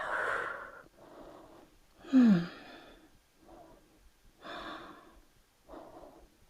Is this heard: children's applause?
no